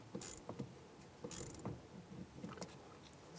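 A worm-drive hose clamp being tightened on a heater bypass hose of a 2008-2017 Buick Enclave, giving faint, close, intermittent metallic clicks and scraping turns with pauses between them and no voices.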